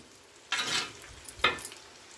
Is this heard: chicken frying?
yes